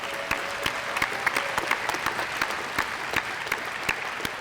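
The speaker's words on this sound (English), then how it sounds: "give these participants a big round of applause" A crowd applauds steadily, many hands clapping in a dense patter with a few sharper claps standing out, fairly distant and without talk.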